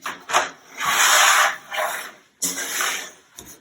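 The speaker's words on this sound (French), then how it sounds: "je vais déplacer mon jean pour avoir la place qu'il me faut" Denim jeans slide and rub across a surface as they are shifted aside during a Levi's sizing measurement, giving several soft, close fabric swishes and rasps of varying length with no talking.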